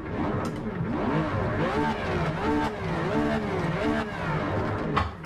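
A naturally aspirated Porsche 911 GT3 in Project CARS 3 on the Nürburgring revs hard, its engine note climbing and dropping in repeated sweeping waves past 9,000 rpm, steady and loud throughout.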